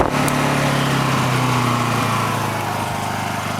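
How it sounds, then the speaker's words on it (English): A Honda EU2000i inverter generator runs in eco mode after sitting unused for two years, giving a close, steady buzzing engine drone with a constant low hum throughout. "Now we're gonna try it with the eco mode."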